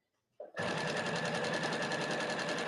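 A sewing machine stitches a small fabric bag, starting after a brief soft rustle and then running in a loud, steady rapid whir of needle strokes close up.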